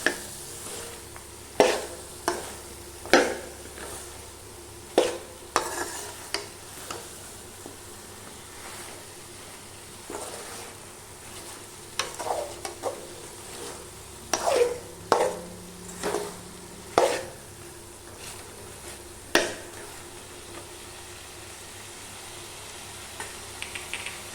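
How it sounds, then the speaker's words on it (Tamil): Drumstick pieces are sautéed with masala in a pan, a low continuous sizzle punctuated by irregular scraping and clacking stirs, some in quick clusters and others spaced seconds apart, close-up with no talk. "கழுவிட்டு அதை இதில் சேர்த்து நல்லா வதக்கி விட்டுறலாம்."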